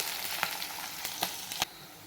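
Onions frying with crackling cumin and mustard seeds, a steady close hiss with a few sharp pops and stirring scrapes, no voices.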